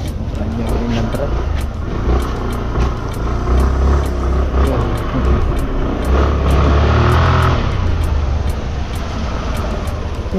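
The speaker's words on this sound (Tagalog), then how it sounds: "Banyak rin ng truck." Road traffic rolls past with trucks, a loud continuous rumble of heavy engines and tyres close by, swelling as vehicles pass, with faint voices mixed in.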